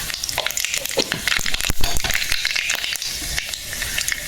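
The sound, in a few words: dried red chillies frying in oil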